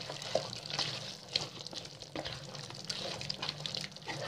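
Thick spiced chicken curry mixture being poured over chicken and stirred, giving soft wet squelching and sloshing with light clinks of a utensil against the vessel, close and steady, no talking.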